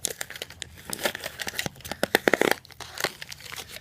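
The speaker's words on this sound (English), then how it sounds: "And they take off the second piece of tape as well." Tape peeled off a tamper-evident Glad plastic container gives a close, crackly run of crinkling and tearing noises, with sharp bursts near the middle of the pull.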